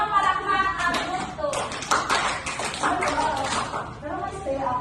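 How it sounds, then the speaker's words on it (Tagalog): A group in a good-manners classroom demonstration claps together in a short burst of sharp hand claps that sounds close, with a voice talking before and after. "limang palakpak ang group"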